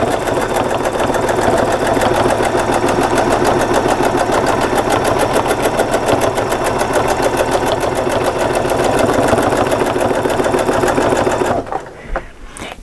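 Domestic sewing machine stitching continuously during ruler work quilting, a loud, fast, even mechanical rattle that stops abruptly near the end, leaving quiet room sound.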